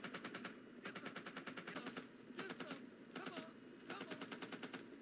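Automatic gunfire from the 1987 war film Full Metal Jacket crackles in rapid bursts of sharp shots separated by short pauses, loud and continuous over a background of movie noise.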